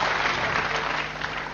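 Audience applause from a seated crowd at an academic talk event, a dense steady patter of clapping hands filling the short stretch, close and continuous without speech.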